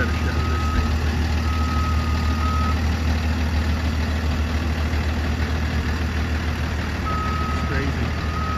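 A tow truck with a crane idles loudly and steadily in a residential backyard while lifting a car out of a swimming pool, its heavy engine rumbling throughout, with a repeating reversing beep and people talking underneath.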